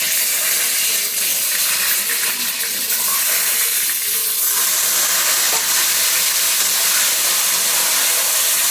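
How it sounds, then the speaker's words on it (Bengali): Eggs fry in hot oil in a pan on a gas stove with the heat turned down, giving a loud, steady, close-up sizzling hiss that runs throughout with no talking. "তেল গরম হয়ে গেছে, গ্যাসের হিটটাকে কমিয়ে ডিমগুলি দিয়ে দিচ্ছি।"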